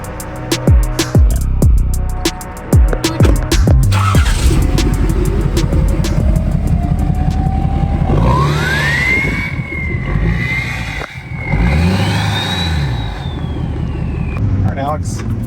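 A 650HP 6.7 Powerstroke diesel truck accelerating hard, its engine rumble rising through gear changes while a turbo spool whistle climbs and sweeps higher, close and loud, with people talking over it.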